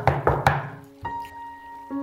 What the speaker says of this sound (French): lorsque l'on frappa à la porte